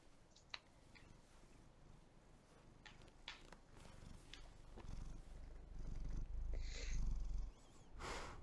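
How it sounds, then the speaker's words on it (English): A house cat purrs right into a microphone during a podcast recording, a close, low rumbling purr that swells louder toward the end, with a few soft snorts and clicks. "Just letting my cat purr into the mic."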